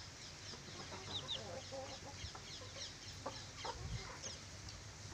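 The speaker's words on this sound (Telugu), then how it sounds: "కోడి యాక్టివ్గా ఉందని తెలుసుకోవడం అయితే ఇదండి" Hens on a small poultry farm cluck in short, scattered calls over a quiet, steady background.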